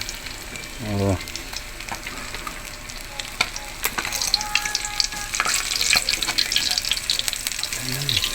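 Food fries in oil in a pan with a bright, crackling sizzle that grows busier toward the end, with brief low thumps at the start and finish and an occasional faint voice nearby.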